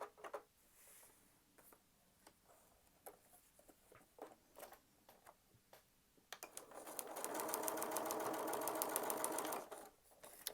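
A sewing machine stitches quilt block seams, starting with scattered short clicks and taps, then settling into a steady, fast, whirring run of stitches for a few seconds before stopping, close and moderately loud.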